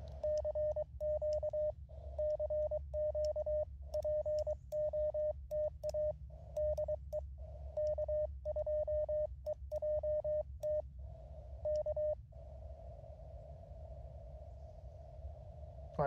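Morse code CW sent on an MTR-4B QRP radio during a park outing: a faint, steady tone keyed in short and long beeps, with a quiet low hum beneath and a held tone at the end.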